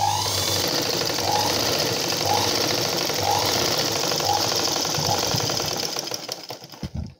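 A sewing machine runs steadily, stitching blouse fabric in a continuous even whir with a faint repeating pulse, then slows and stops near the end.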